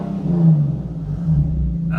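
Engine revving from a sports car, a Ford Mustang Shelby GT350R or a Nissan 370Z, heard close up: a loud, throaty rumble that swells twice over two seconds, with no talking.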